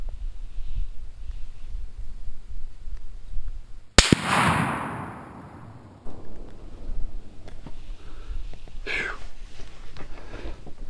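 A single sharp, loud shot from a Mossberg Patriot .30-06 rifle firing Winchester 180-grain Power-Point ammunition rings out with a decaying echo outdoors, with faint voices around it.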